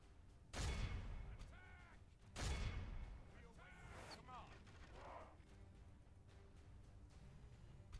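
Siege weapons fire during a castle gate assault in the Total War strategy game, modded with an Elder Scrolls setting: two heavy booming shots about two seconds apart, then a steady rumble of battle noise.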